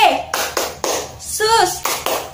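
Children clap hands during a Sunday school clapping song, a series of crisp, evenly spaced claps nearby, with a brief spoken voice woven in partway through.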